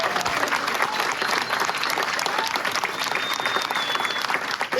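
Crowd applauding at a stand-up comedy show, a dense, steady wash of clapping from a sizeable audience lasting the whole stretch, with a voice faintly heard over it.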